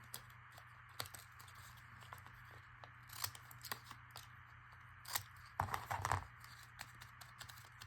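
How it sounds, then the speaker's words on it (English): Ripple scissors snip through paper in a series of short, quiet cuts, irregularly spaced, with a few quicker bursts of cutting close by. "I'm going to trim it with the ripple scissors"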